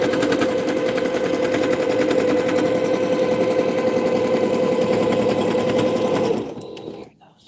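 A sewing machine stitches binding onto a quilt, running in a loud, fast, steady mechanical whir close by before slowing and stopping near the end.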